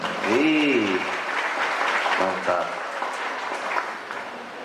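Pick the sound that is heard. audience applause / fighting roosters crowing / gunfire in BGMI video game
audience applause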